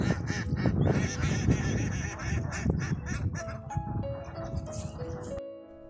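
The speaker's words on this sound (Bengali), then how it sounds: "এই বিলে হাঁসের চাষ হয়।" Many farmed ducks quack continuously and loudly on a wetland at Kaligram in Rajshahi, a dense overlapping chorus that thins out toward the end.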